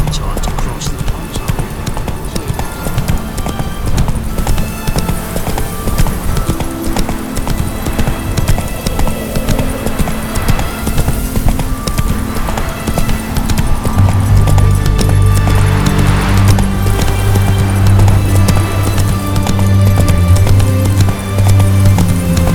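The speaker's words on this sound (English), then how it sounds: "Not so fast, Roach. Giddy up." A horse gallops in The Witcher 3 video game, steady rapid clip-clop hoofbeats throughout, with speech and background music layered over the hooves.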